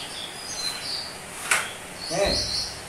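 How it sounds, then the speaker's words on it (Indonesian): Calls of the burung polis bird ring out as a few high, thin chirps over a faint, steady outdoor hiss, with a brief sharp click midway. "Burung polis. Tuh."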